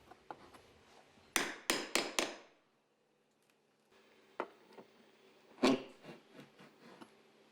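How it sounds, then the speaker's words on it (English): A Tiger's Paw nail puller works buried nails out of wooden trim around a sliding patio door: a quick run of four sharp, close metallic strikes, then a pause, scattered softer taps, and one more loud hit. "As the opposite end of the tool is pushed downward, the buried nail is pulled to the surface."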